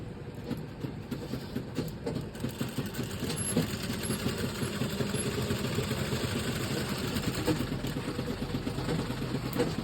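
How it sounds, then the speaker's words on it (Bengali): A sewing machine stitches fabric in a steady, fast mechanical whir. It runs continuously and fairly quietly for about ten seconds, with no talking over it. "এবার তুমি সেলাইটা করো কাপড় টানা যাবে না"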